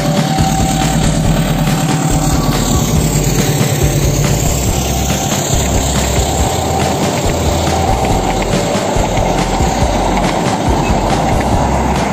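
A train passes close by near the former Kalisat–Panarukan railway junction in the morning, a loud continuous rumble of wheels and engine with rattling carriages and a faint squeal, with no talking.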